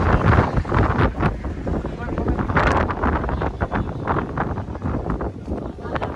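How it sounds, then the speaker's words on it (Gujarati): Heavy wind buffets the microphone in a steady, loud roar with gusty bursts, and voices can be heard faintly underneath. "વાયરો તો જોરદાર આવે."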